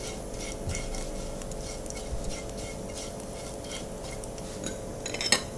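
Whole cumin seeds roast in a pan over a medium flame, giving a soft continuous sizzle with light metallic scraping and stirring close by, ending in a slightly louder clatter.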